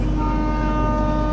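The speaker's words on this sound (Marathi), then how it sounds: "ट्रेनमधनं उतरलो आणि भोंगा वाजला." Horn of the Mandavi Express sounding at Vaibhavwadi Road station on the Konkan Railway, a loud, steady tonal blast held throughout over a constant low rumble.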